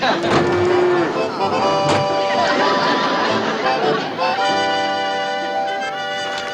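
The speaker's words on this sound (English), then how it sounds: "Sounds like a cow's in there." A cow moos from inside a box, a long drawn-out low bellow heard over continuous chatter and background voices, with the lowing rising and falling through the whole stretch.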